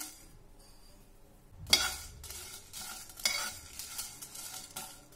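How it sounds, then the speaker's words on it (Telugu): Peppercorns, cumin, fennel and dry red chillies are roasted on low flame in a kadai and stirred. After a near-silent start come a series of dry scraping strokes and rattles, with a faint sizzle underneath. "ఇవన్నీ లో ఫ్లేమ్లో పెట్టుకొని బాగా వేయించుకోవాలి"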